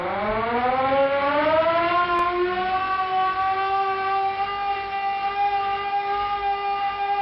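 A civil defense siren sounds to start the purge, a single loud wailing tone that rises in pitch and then holds steady and sustained, heard alone.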